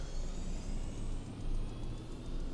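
Auxiliary power unit of an Airbus A320neo spooling up in a flight simulator game, a steady broadband rumble with a faint high whine, heard from outside the aircraft without any speech.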